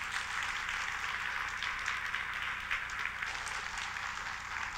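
Audience applause at a Woori Bank Vietnam ceremony, a steady wash of many hands clapping together at moderate volume, even and sustained without pause and with no talk over it.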